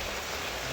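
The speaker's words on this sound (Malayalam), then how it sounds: "അപ്പം നല്ല മഴയാണ്, മീനൊന്നും കിട്ടിയില്ല." Heavy rain falling in a steady, dense wash of noise that holds constant without pause, close and fairly loud, with no voices.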